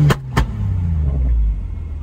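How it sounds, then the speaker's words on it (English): Ford F-150 pickup truck with rock lights rolling out at a car meet, a low close engine rumble that swells and then fades as it pulls away, preceded by two sharp clacks. "Got old Blue in his F-150 rolling out with all of his rock lights"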